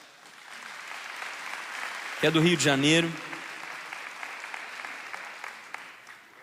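An audience applauds at an evening gathering, steady clapping throughout, while a voice speaks briefly over it partway through.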